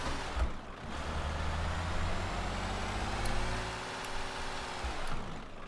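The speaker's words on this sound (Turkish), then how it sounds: "Birinci ikinci viteste bağırıyor üçüncü viteste bayağı bir zorlanıyor" Mitsubishi Lancer Evolution engine in Euro Truck Simulator 2 straining in a low gear, a steady droning rumble with a slowly rising whine, moderately loud and alone.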